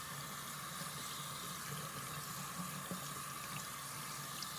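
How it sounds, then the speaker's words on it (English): Tap water runs in a steady, faint, even stream as soap is rinsed off, a constant hiss with no talking. "I'm gonna go ahead and just rinse the rest of the soap off."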